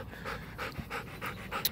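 A dog pants close by in quick, steady, breathy bursts, roughly three per second, with no other sounds around it.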